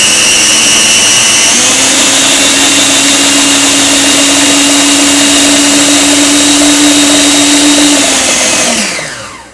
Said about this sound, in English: now the trick is to use the food processor without waking up the baby